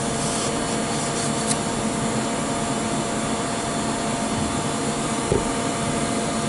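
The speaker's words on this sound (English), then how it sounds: "Use a rag to get that excess off of there." A rag rubs and wipes excess brake parts cleaner off a metal part, making a steady, close, dry scrubbing hiss with no pauses.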